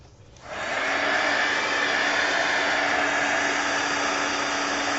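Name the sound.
hair dryer drying decoupage glue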